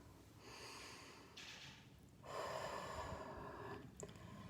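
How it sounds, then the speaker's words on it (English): Slow, deep breathing, a long drawn-in breath followed by a fuller, louder exhale, close to the microphone with no talk. "Stop tapping, take a breath"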